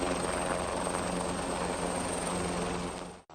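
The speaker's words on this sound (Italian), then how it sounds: "Immediato l'arrivo dell'elicottero dei vigili del fuoco Drago 139 con a bordo un veterinario e una guardia provinciale" The Drago 139 rescue helicopter of the Italian fire brigade thunders steadily with loud rotor and turbine noise close by, its roar holding level before it cuts off abruptly at the end.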